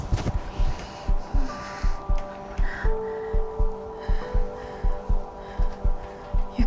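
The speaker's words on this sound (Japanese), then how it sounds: "心臓の音やばい。" Heartbeat, a steady, fast rhythmic thumping of regular low throbs over a droning hum with scattered faint tones, with no talking.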